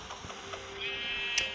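A sheep in the video game Minecraft gives a short, faint synthetic bleat, with a brief buzzy electronic tone layered under it.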